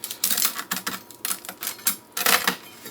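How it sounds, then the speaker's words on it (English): A knife slices down the center of layered freeze-dried noodle squares from a pineapple chicken noodle dish, giving a series of crisp, crackly cutting bursts in quick succession, close and fairly loud with no talking. "take my knife and run it right down the center of those squares"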